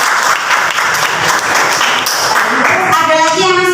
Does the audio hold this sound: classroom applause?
yes